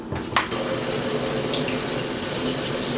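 Water sprays steadily from a hand-pumped portable shower that fits in a vehicle trunk, giving a continuous close hiss that holds even throughout with no talking.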